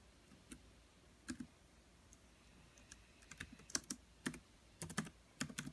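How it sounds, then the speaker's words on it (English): Scattered keystrokes on a computer keyboard as a name is typed in, soft close clicks arriving in short irregular bursts with brief pauses between them in a quiet room. "I'm going to begin by typing in my name"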